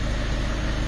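A Peugeot car engine, just started after timing belt work, idles with a steady low rumbling hum throughout, its belt reportedly tensioned too tight.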